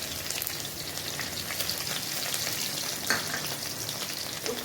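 Cumin seeds, green chili and garlic sizzle in a hot pan, a steady close crackling fry with scattered pops and occasional stirring clicks.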